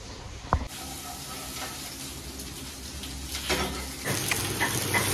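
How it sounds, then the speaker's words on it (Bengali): Bay leaf, cumin seeds and green chilli sizzle in hot mustard oil, a steady close frying hiss that swells louder toward the end, with a sharp clink near the start. "প্রথমে তেজপাতা, সাদা জিরে আর কাঁচা লঙ্কা সর্ষে তেলের মধ্যে ফোড়ন দিয়ে দিলাম।"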